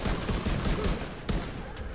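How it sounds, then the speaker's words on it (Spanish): A loud, close burst of machine gun fire in The Division 2, rapid continuous shots rattling for about two seconds with a brief dip before resuming. "Vienen con una ametralladora."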